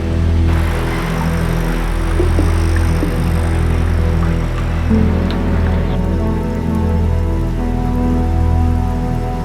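Steady rain falling at the onset of the rainy season in the Amazon rainforest, a dense continuous patter with occasional drips, fairly loud and unbroken throughout, no voices.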